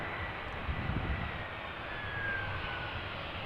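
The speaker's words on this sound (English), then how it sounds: "As we have an Air France Airbus A320 arriving from Paris Charles de Gaulle, now touching down." An Air France Airbus A320 arriving from Paris touches down at Amsterdam Schiphol in crosswind, its engine roar a steady, moderately distant rumble with a faint whine drifting through.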